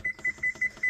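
An oven timer being set gives five short electronic beeps at a quick, even pace, close and clear with no talking.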